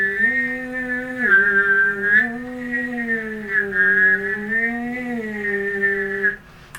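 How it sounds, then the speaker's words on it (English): A person hums a low tone while whistling a higher melody at the same time, a clarinet-lesson exercise, both held and gliding together, close and clear. "So if you can hum and whistle at the same time,"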